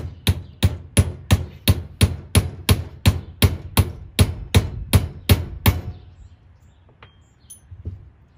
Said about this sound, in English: and then hammer it.